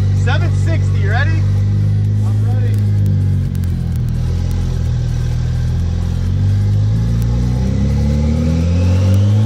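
A twin-turbo BMW N54 335i engine on a dyno, loud and close, revving up through a long pull with the pitch rising steadily, while people speak briefly at the start.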